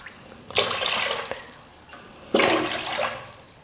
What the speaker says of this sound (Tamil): எக்ஸ்ட்ரா ஒரு 1/4 டம்ளர் அளவுக்கு நான் தண்ணி சேர்த்துக்க போகிறேன்.